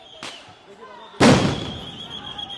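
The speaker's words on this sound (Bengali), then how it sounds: "দফায় দফায় সাউন্ড গ্রেনেড নিক্ষেপ করা হচ্ছে" A sound grenade blasts during a police crackdown on a teachers' protest at Shahbag, Dhaka: one loud close explosion with a long ringing tail, after a fainter pop, amid crowd noise and voices.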